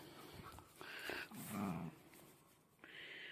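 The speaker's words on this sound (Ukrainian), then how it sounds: "вона такою ніби гаркає, гавкає, гавкає" A pet dog growls and grumbles in low, uneven bursts with a few whimpering yips, close and fairly quiet, with short pauses between the sounds.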